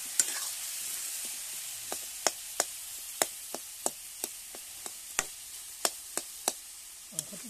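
Meat fries in a pan, with a steady sizzle behind regular sharp clacks as a spatula stirs and scrapes, about two per second.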